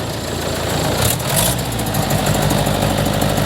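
A mobile rice mill's engine with a three-way gearbox runs at a steady, loud drone, revving somewhat high and holding an even, continuous rumble without any talk.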